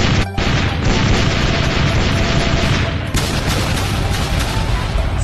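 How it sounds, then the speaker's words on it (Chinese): A cartoon cannon barrage of a hundred guns pounding a city's walls, a dense, loud, continuous rumble of booms and crashes with a brief gap near the start and a fresh surge partway through. "100门大炮同时轰，将他们城墙给孤轰个稀巴烂"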